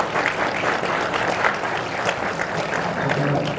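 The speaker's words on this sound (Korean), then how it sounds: "저분들 박수 쳐주세요" Congregation at a church worship service and prayer rally applauds, a sustained, fairly loud patter of clapping from a crowd lasting throughout with no break.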